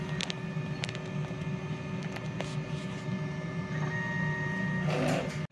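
A DTF printer runs its print head cleaning cycle, with a steady mechanical whir and hum, repeated clicks and small clunks, and a brief louder burst of motion near the end before it stops.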